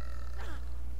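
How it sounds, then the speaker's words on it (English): Zombie burp-like grunt from the Call of Duty Black Ops 2 Zombies Tranzit mode, a single short guttural eructation lasting about a second over a steady low game hum. "Lots of burping."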